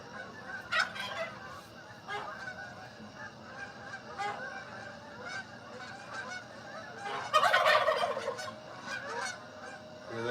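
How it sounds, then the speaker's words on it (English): A flock of Canada geese honks from a distance, scattered calls rising into a louder burst of overlapping honks as the birds circle over a pond, with rural background hum. "There goes all the Canadian geese."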